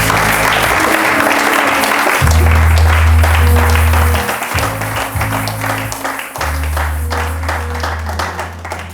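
A church congregation applauds loudly and steadily, a dense wash of clapping close around, with voices and a low keyboard or organ tone running beneath.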